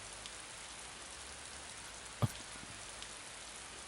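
Steady rain falls outside, an even, close hiss of drops throughout with one brief knock partway through.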